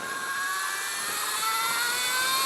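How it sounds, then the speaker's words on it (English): Alta Redshift SM electric motorcycle pulling away on throttle, a loud steady high-pitched motor whine rising slightly in pitch over rushing wind, close and without talking. "Just turn the bike and then you twist the throttle."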